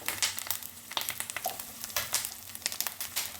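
Chili powder fries over low heat with ginger-garlic paste and mustard in a pan, a soft crackling sizzle broken by repeated scraping strokes of a spoon stirring, close and uneven.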